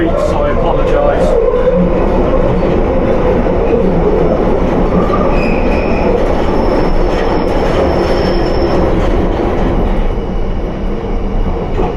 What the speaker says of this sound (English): I get a bit of wheel screech, so I apologise.